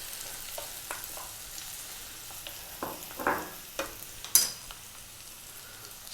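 Chopped onions and carrots frying over fairly high heat, a quiet sizzle broken by several scraping strokes of stirring in the pan, with no talking.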